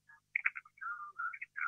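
A telephone call coming in to a Thai radio Dharma program, heard as a short, faint electronic ringing melody of warbling tones in several bursts.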